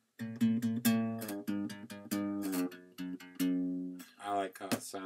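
A guitar riff of closed chords played with slides between positions, loud and close, a rapid run of strummed chord hits with gliding transitions at the end and no voice.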